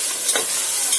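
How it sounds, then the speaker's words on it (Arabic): A short scrape of stirring as tomatoes are turned into onion frying in a pan, with a soft sizzle underneath and one brief louder stroke partway through. "احنا حطينا كده شويه طماطم الاول، وهنقلبها كده في البصله"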